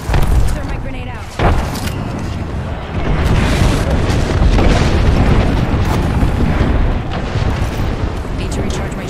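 Game explosions from grenades and an airstrike in Apex Legends, booming and rumbling continuously over dense battle noise, with a loud burst near the start and callouts from the characters throughout.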